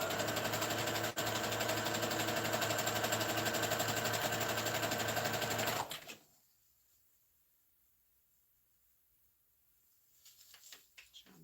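Sewing machine running a back stitch, a fast rhythmic mechanical chatter lasting about six seconds, then stopping abruptly into near silence with a few faint handling noises.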